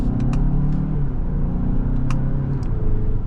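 A 2025 Hyundai Santa Fe Limited SUV in sport mode with its dual-clutch transmission accelerates, a steady, loud engine drone heard from inside the cabin, with pitch climbing and brief shifts through the gears.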